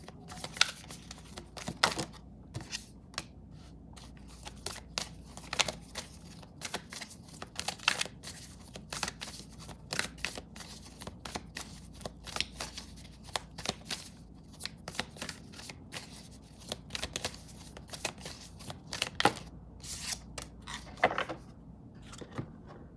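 A deck of tarot cards is shuffled and handled at close range, with repeated crisp riffles and flicks coming in irregular bursts, no talking over them.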